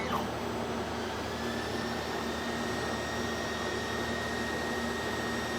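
An Algolaser Alpha 20-watt laser engraver runs a line engrave with a steady, faint airy whir and a thin constant whine, unchanging throughout.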